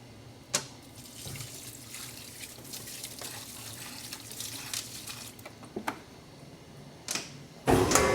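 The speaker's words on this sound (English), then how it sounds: "Now we're going to add a little bit of the spring water." Water splashes and trickles in short bursts, like liquid being poured into a container, with a few clinks and a louder splash near the end.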